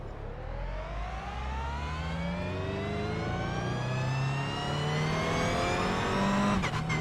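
Toyota GR86 race car engine in the iRacing sim at Summit Point Raceway, a steadily climbing whine as it accelerates through the gears for several seconds, with a brief sharp rattle near the end.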